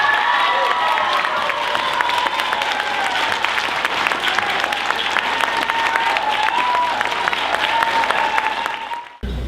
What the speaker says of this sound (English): Let's give a warm round of applause for Mr. Jerry Walker.